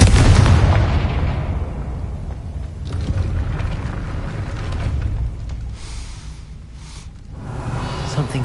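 A Confringo blasting spell in the Harry Potter game Hogwarts Legacy, a loud, booming explosion at the start that rumbles and fades into a long, noisy tail.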